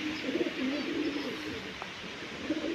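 Pigeons sit in a loft on a rainy monsoon day, giving soft repeated low coos close by against a gentle wash of rain.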